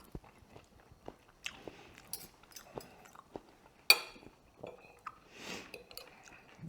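Someone eating a classic Olivier salad, with soft crunchy bites and chewing sounds close to the microphone, a few sharper clicks of cutlery against a dish mixed in, and no talking.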